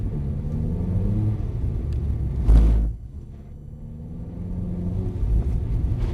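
A Mercedes-Benz car accelerates hard with a deep engine roar rising in pitch, a brief loud burst, a drop as the throttle lifts, then building again, heard from inside the cabin.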